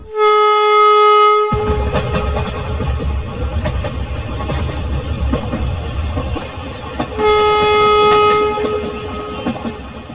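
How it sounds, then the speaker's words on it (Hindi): Cartoon train sound effect: a sustained horn toot, then a rumbling rolling rattle of wagons starting to move, with a second horn blast partway through, loud and close. "ये लोग ये सोच ही रहे थे कि तभी ट्रेन शुरू हो जाती है।"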